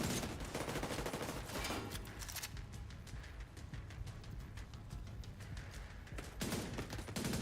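Guns fire in The Division shooter game in rapid bursts and crackling volleys, dense at the start and end with a thinner stretch of scattered shots in between.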